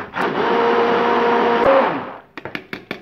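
A hand blender purées leek soup, whirring loudly and steadily for about two seconds, then stops, followed by a few sharp clinks and knocks.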